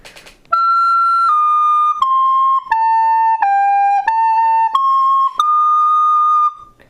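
A recorder flute plays the Loy Krathong melody as a short phrase of sustained, clear notes stepping down and back up. It is loud and close, with no voice over it.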